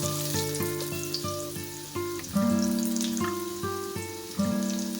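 Onion frying in hot oil, a steady bright crackling sizzle running under soft background music.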